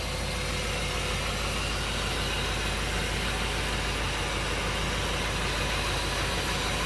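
A BMW 8 Series engine idles smoothly and quietly at a steady, even pitch throughout, with a low continuous hum and no knocking or tappet noise standing out.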